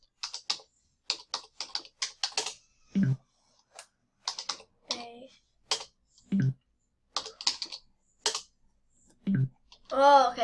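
Close-up bursts of keystrokes on a computer keyboard as a password is typed, quick clustered clicks in several runs with short pauses, ending with a brief high electronic chirp or voice-like sound.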